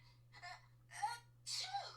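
A character sneezes in the Nancy Drew game Ghost Dogs of Moonlake, in a dusty room. Three quick nasal bursts follow one another over a steady low hum, the last the strongest.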